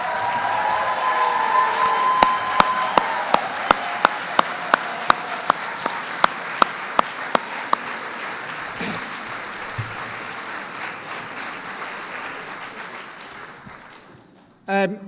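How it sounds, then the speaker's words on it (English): Graduates at a ceremony applaud their supporters; the clapping is thin, with a few sharp regular claps standing out early, then fades to a low murmur before a brief louder burst at the end. "So if graduates, you'd like to applaud the people who've made the..."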